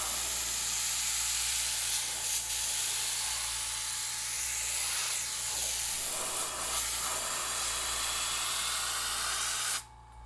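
Steady airbrush spray hissing continuously for about ten seconds from a dirty, poorly working airbrush while painting a custom rose, with a low hum underneath, stopping abruptly at the end.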